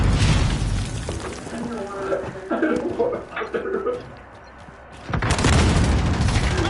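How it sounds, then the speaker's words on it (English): Grenade blast and gunfire in Call of Duty Modern Warfare: a heavy boom opens, a stretch of quieter combat with voices follows, then another loud burst of explosive fire near the end. "Throwing grenade!"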